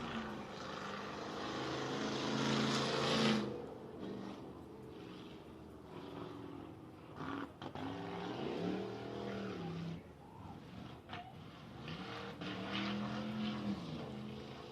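Race car engines roar and whine as they pass on the Big O Speedway track, rising and falling in pitch, with one loud surge early at the green flag and more cars following at a distance.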